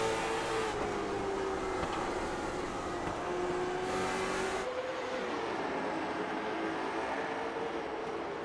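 Late model race cars roar around an oval track during a 125-lap feature, a steady loud engine drone with a pitch that sweeps down and back up as cars pass close, heard continuously throughout.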